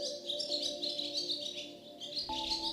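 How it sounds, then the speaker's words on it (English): A small bird sings a bright, quick series of chirps and trills, close by, with a faint steady tone underneath. "the family heard a familiar birdsong"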